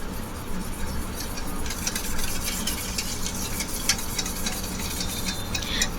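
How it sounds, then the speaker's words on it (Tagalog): An oil mixture is stirred steadily in a pot, a continuous close scraping and swishing with a faint sizzle underneath and no talking. "Haluin lang siya ng haluin hanggang sa maglapot konti."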